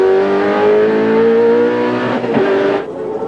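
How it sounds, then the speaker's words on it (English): A race car engine drones loudly at high revs, then drops in pitch and fades as it slows into the pit lane during the 1992 Bathurst race. "The leading car coming in for its pit stop."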